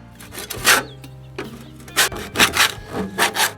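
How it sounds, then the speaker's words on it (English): Putty knife scraping a no-slip sticker strip off an RV step, giving a series of short, close scraping strokes in an uneven rhythm. "I got a putty knife to get the sticker off the rest of the way."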